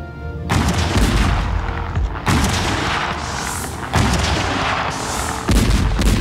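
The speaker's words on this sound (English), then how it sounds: "On the 10th of October, the Allies opened fire." French siege guns firing artillery during the Siege of Yorktown, with loud repeated booms and heavy rumbling blasts coming about every one to two seconds and no talk.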